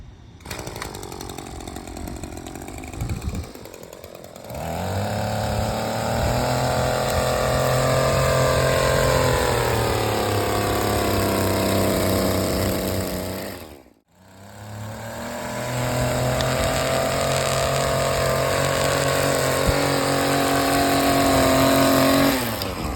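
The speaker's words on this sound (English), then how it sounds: "Example here is edging a bed with a weed eater." Weed eater line trimmer edging a garden bed, a loud buzzing two-stroke engine that revs up, holds a high whine, drops off briefly to near silence, then revs back up again.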